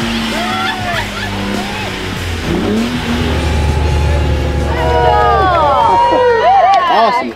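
A 4x4 rock crawler engine revs and labours on a rocky competition course in Japan, its loud, sustained drone rising and falling with sharp pitch sweeps toward the end, while crowd noise and speech carry underneath.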